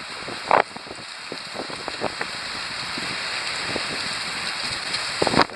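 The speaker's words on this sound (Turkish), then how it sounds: "şu anda fırtına etkili oluyor Kavaklı sahilinde." Storm on Kavaklı beach: steady, dense rain hiss with scattered drop impacts and wind noise runs throughout, with a few louder gusts or splashes near the start and end.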